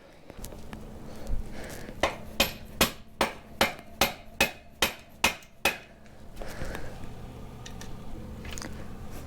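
Eleven evenly spaced hammer blows drive the axle into a Honda CR250R motorcycle. The strikes are sharp and close and speed up slightly, with quieter handling noise before and after.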